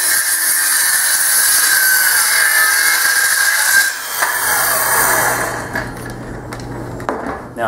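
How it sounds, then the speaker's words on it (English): A hand saw cuts through wood with its side guided along a speed square, giving steady, close rasping strokes that run continuously and loud before tapering into lighter, scratchier strokes near the end. "sliding the side of the saw or the base of the saw along the speed square. So let's make this cut"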